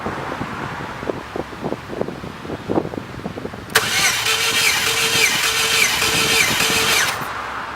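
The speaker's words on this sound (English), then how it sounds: "I'm going to turn the vehicle over 6 times" Car engine cranking over repeatedly during a cylinder compression test, fairly close, starting after a stretch of rhythmic quieter sound and running steadily for several seconds before cutting off.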